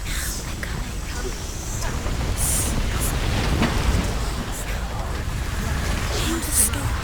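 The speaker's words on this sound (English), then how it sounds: "Hear the storm." Storm rain hisses steadily in the video game Hellblade: Senua's Sacrifice, with low rumbling thunder rolling beneath and a few brief sharper bursts, while a voice speaks over it.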